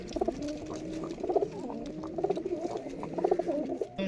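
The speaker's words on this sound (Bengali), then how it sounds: "গিরিবাজ কবুতর, নর কবুতর এটা, আর মাদি হচ্ছে এটা।" Male and female Giribaz pigeons cooing in a low, throaty rolling pattern, repeated phrases pulsing every second or so, close by with a faint background hum and no talk.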